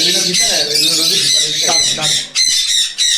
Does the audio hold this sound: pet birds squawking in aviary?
yes